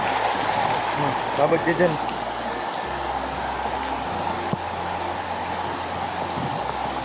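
Rain falls on a swollen, overflowing creek too high to cross, making a steady, close rushing wash of water. A voice speaks briefly near the start.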